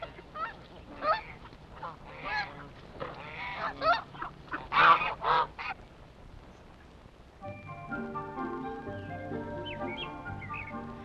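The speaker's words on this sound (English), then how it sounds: "and Chinese geese, and several species of ducks and swans will be seen." Chinese geese at the African Lion Safari wildlife park honk repeatedly and loudly at close range for about six seconds, then give way to a steadier tonal sound, with no talking.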